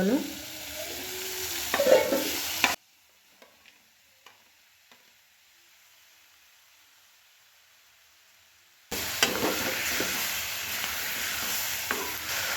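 Tomato masala fries in a pan with a loud, dense sizzle that cuts out to near silence for several seconds, then returns just as strong.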